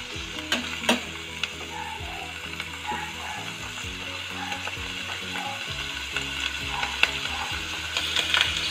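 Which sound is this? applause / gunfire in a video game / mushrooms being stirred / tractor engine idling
mushrooms being stirred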